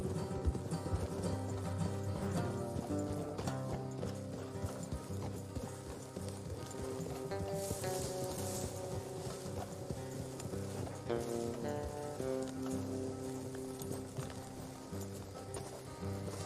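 Rhythmic hoofbeats of galloping horses in Red Dead Redemption 2, a continuous clip-clop under swelling orchestral music, held at a steady moderate level.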